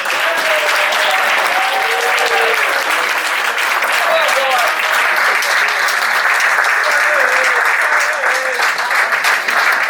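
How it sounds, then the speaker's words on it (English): Sustained, dense crowd applause fills a Biggleswade FC football club awards dinner, steady and loud from start to finish, with a voice faintly audible beneath it. "I'd like you to give him a round of applause"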